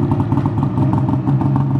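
A snowmobile fitted with a race can exhaust runs close by, giving a brief, loud, choppy rumbling engine note with rapid pulsing.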